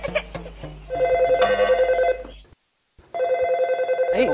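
An indoor telephone ringing in repeated trilling bursts, loud and close, broken by a short gap of silence before it rings again, with faint voices around it at the start.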